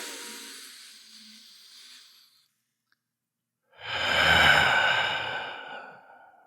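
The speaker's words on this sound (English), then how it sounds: "Let's take a deep breath here." A long, slow breath during a guided meditation: a soft airy inhale tapering off, a brief silence, then a fuller, louder exhale sigh, close and with no talk.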